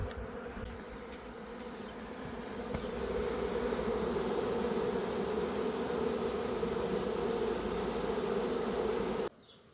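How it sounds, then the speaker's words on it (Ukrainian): A swarm of honeybees landing at a hive: a loud, steady buzzing drone of many bees close by that swells and holds, then cuts off abruptly. "бджілки злітають. І от сідають тут біля вулика, приземляються і зараз всі вони будуть тут."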